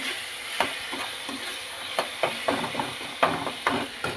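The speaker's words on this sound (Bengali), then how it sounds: "এবার আবার একটুখানি কষিয়ে নিচ্ছি সব মশলার সাথে" Spice paste with cumin powder and green chili paste frying in a pan, a continuous close sizzle punctuated by a series of spoon taps and scrapes against the pan as it is stirred.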